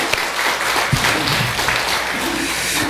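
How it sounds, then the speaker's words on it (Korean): An audience at a Buddhist temple dharma talk gives sustained applause, a loud, dense wash of clapping that runs through the whole stretch, with faint voices mixed in. "박수 한번 다시 쳐주십시오"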